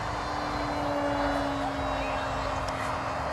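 RC bullet plane on a 4-cell battery with a 6.4 sport prop, flying with a steady high-pitched electric motor and propeller whine, loud and continuous throughout.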